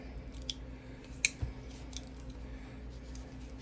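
The scissors on a Leatherman Surge multitool are pushed down, unlocked and opened, making a few small, sharp metallic clicks over near-silence.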